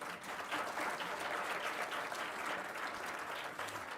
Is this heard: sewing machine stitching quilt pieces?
no